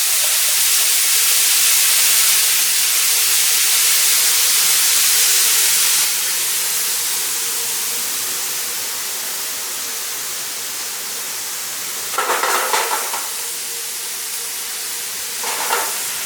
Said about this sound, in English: I'm going to add a little bit of this vegetable base to create some steam.